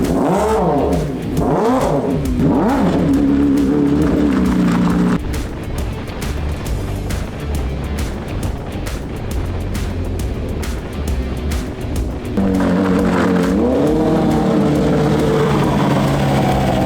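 A homemade Formula 1 car on its first drive roars loudly, its engine revving up and down in rising sweeps, then holding a sustained harsh blare before climbing through more revs.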